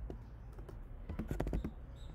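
Quiet, close computer keyboard typing as code is entered, a short run of uneven clicky keystrokes clustering in the middle of a brief stretch.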